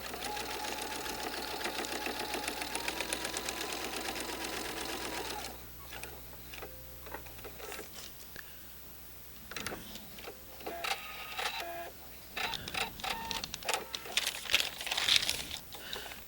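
A sewing machine stitches a quilt block in a fast, steady mechanical whir for several seconds, then stops; after that come scattered clicks, fabric rustles and short bursts of handling noise, all fairly quiet.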